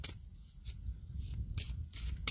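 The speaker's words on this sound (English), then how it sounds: "You only put out one card, and I've shuffled and shuffled and shuffled and shuffled" A deck of tarot cards is shuffled by hand in quick repeated riffles, several crisp bursts of papery flutter spaced through the moment, close and clear with no talking.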